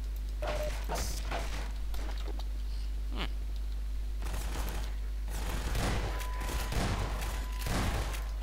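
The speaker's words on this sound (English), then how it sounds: "Shots fired." Gunfire in Half-Life 2 comes as scattered sharp shots and short bursts spread across the stretch, moderately loud, over a steady low hum.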